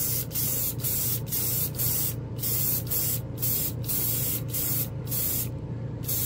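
An airbrush spraying Vallejo Game Air paint in a run of short close hissing bursts, about nine puffs in a steady rhythm with brief gaps, over a low background hum.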